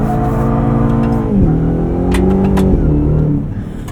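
A 2024 Ford F-150 Raptor R muscle truck's engine drones steadily while driving, its pitch sliding down and back up with gear changes and throttle, loud and close throughout with no talking.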